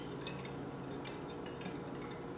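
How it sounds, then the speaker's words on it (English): A red wine tofu marinade with fresh garlic and lemon juice is stirred in a bowl, giving a steady run of soft clinks and scrapes of a utensil against the bowl, close and quiet. "The marinade's all set, so just mix to combine"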